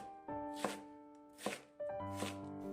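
A knife cuts blanched, drained napa cabbage into fine shreds on a cutting board, with three or four crisp, separate chops against the board over soft background music.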